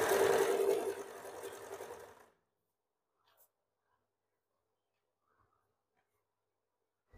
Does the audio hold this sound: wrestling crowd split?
no